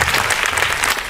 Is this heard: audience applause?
yes